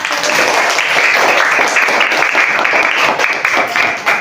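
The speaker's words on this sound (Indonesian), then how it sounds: "Beri tepuk tangan dulu untuk kelompok 1" A classroom of students gives group 1 a round of applause during an integrated-learning lesson. The clapping is loud, close and dense, with a continuous rapid patter that lasts the full four seconds and no clear talking.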